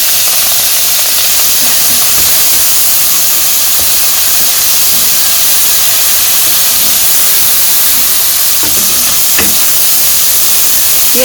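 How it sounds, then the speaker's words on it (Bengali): Fish and onions fry in a pan in a village-style kitchen, a loud, continuous sizzle and hiss that fills the whole stretch, with a few faint clinks and stirring knocks near the end. "পেঁয়াজগুলো মাছের সাথে ভালো করে মিশিয়ে ভেজে নিয়ে"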